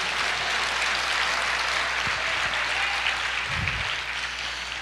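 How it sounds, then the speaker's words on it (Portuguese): Church congregation applauding together, a steady dense wash of clapping filling the room, fairly quiet overall with a few low thumps near the end. "Aplauda ao Senhor"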